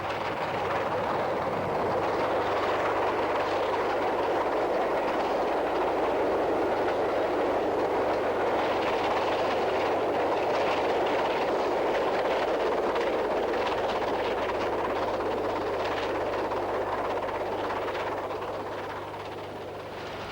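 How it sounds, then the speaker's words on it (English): Steam locomotive Tamar Valley hauls an express for Waterloo up the bank out of Christchurch towards Hinton Admiral in the 1960s, a continuous rumbling chug with rolling wheel noise, steady and moderately distant. "Tamar Valley forges up the bank out of Christchurch towards Hinton Admiral with an express for Waterloo."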